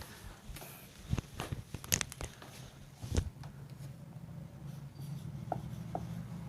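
Erasing and writing on a board during a lesson, with scattered close taps, scrapes and short strokes followed by quieter, steadier scratching, with no talking.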